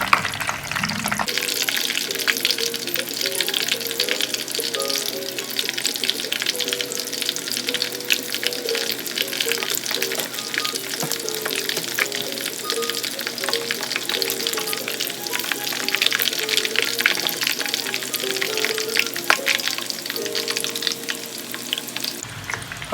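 Pork cutlets (tonkatsu) deep-fry in hot oil, a dense, continuous bubbling crackle and sizzle heard up close, steady and loud throughout without talk.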